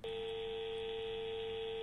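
A steady electronic dial tone with no gaps from a telephone in the video game Anomaly Exit, set in a subway, sounding clear and close with nothing else over it.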